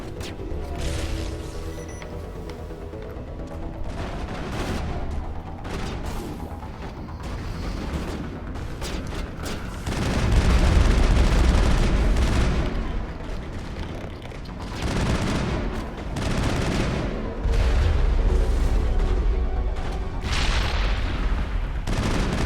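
Explosions and rapid gunfire from a firefight in the video game Mass Effect 2, dense and loud throughout, with heavy booms swelling midway over continuous shooting and game noise.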